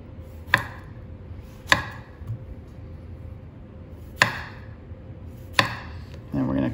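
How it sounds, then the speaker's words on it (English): A knife cuts the ends off a tomato on a cutting board, making four sharp, separate chops spaced a second or more apart, close and clear against a quiet room. "And the tomato, I like to cut the ends off because those are garbage."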